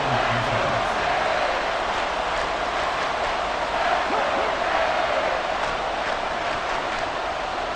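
Broad, steady roar of a stadium crowd in the Madden NFL 24 football game, building noise before a third-and-inches snap, loud and continuous throughout.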